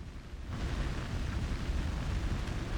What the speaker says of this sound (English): The building's on fire!